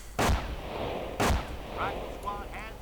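Booby traps explode in a one-versus-one real-time strategy game, two sharp booming blasts about a second apart over faint background battle noise.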